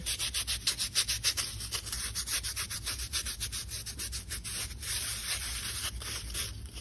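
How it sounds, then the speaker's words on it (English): A fingertip rubs and shapes a small handmade candy piece in rapid, steady back-and-forth strokes, a close, dry scraping texture that pulses evenly throughout with no talking. "Then when you have the basic shape, just start rubbing."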